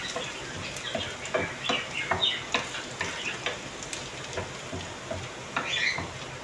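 Chopped garlic sizzling in hot oil in a pan, stirred now and then until browned, with a steady crackling fry and scattered sharp scrapes and clicks of the utensil, close and moderately loud, no talking.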